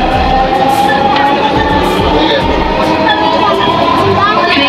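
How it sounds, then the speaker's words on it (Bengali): Dhaka metro rail train running, with a loud, steady rumble and rattle from inside the carriage and faint background voices. "মেট্রো রেল চলতেছে"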